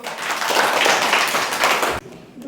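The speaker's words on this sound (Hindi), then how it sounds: "ताली बजाओ सब लोग" Children in a classroom clap together in a brief burst of dense applause that stops abruptly, followed by quiet room sound.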